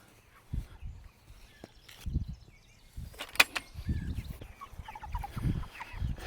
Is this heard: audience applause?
no